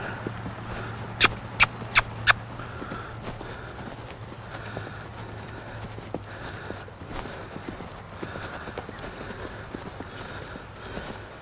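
Horse moving around a handler on the lunge line in both directions, its footfalls a faint, soft rhythmic patter at a distance, with a few sharp clicks near the start and a low steady hum beneath.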